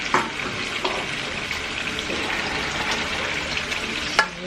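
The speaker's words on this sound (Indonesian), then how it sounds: "bumbu yang udah tumis ini kita masukin ke dalam panci yang berisi air" Sautéed spice paste tipped into a pot of water makes a steady bubbling, sizzling wash with a few soft clanks, close and fairly loud, with no talk.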